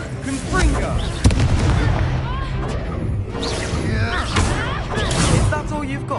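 Explosive spells from Hogwarts Legacy combat burst in quick succession, sharp booming hits with a strong crack just past one second, mixed under shouted spell voices and swirling magical effects.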